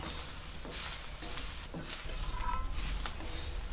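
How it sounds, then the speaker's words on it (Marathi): Onion frying in a pan with a pinch of salt for Kokani chicken rassa, giving a steady, close sizzle with occasional stirring scrapes and no talk. "कांदा जर लवकर भाजायचा असेल आपल्याला, तर आपण थोडा चिमूटभर असं मीठ टाकून घ्यायचं आहे, लवकर भाजल्या जातो"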